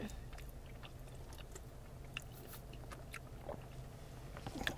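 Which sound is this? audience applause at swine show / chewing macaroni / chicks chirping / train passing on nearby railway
chewing macaroni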